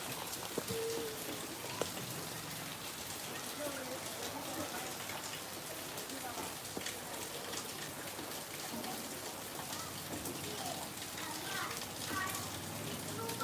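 Steady hiss of light monsoon drizzle falling continuously, a soft even patter filling the background with no pauses.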